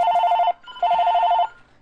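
A phone rings nearby with a warbling electronic trill in two bursts, the second cut off abruptly, clear and loud with no talking.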